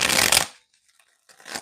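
Two quick bursts of tarot cards being shuffled, close and crisp, separated by a short pause of near silence.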